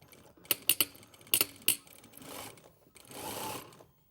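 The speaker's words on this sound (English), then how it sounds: "we're just going to sew above the row of stitching that I just did to join the two pieces together" Sewing machine joining two fabric pieces for a flap and spade pocket, sewing above an earlier row of stitching, with short clattering bursts of stitching and back tacks, then longer steady runs, close by with no talk.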